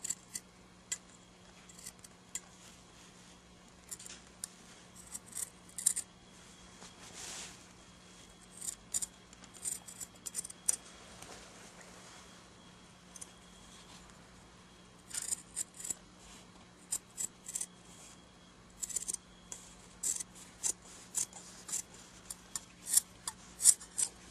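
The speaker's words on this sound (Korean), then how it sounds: "이렇게 하신 다음 가위로 자르셔도 괜찮습니다." Scissors snipping fabric while a face mask is sewn on an Elna sewing machine, heard as faint, scattered crisp snips and rustles in a quiet room, with no speech.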